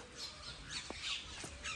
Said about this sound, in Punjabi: ਅਤੇ ਇੰਨੇ ਸਾਰੇ ਮੋਰ ਮੈਂ ਪਹਿਲਾਂ ਕਦੇ ਨਹੀਂ ਦੇਖੇ ਇਕੱਠੇ।